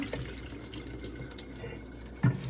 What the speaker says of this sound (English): we're gonna rinse the vinegar off with just plain water